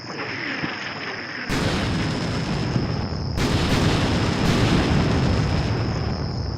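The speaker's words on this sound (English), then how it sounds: "that barrage is finished. Well, probably the last rounds are in the air." An artillery barrage in the Combat Mission: Shock Force 2 video game rumbles as a dense, continuous roar of explosions, with heavy booms swelling partway through and a steady high whine above them.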